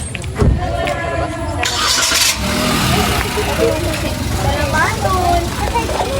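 A car engine starts and settles into a steady idle as passengers climb in for a road trip, a low rumble running beneath lively nearby talk.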